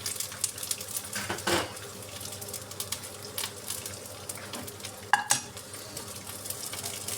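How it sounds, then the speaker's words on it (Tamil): Tomatoes sauté in a pan amid a low sizzle, with clinks and scrapes of a utensil against the pan and a couple of sharper metallic knocks. "வதங்குது. தக்காளி வதங்குது."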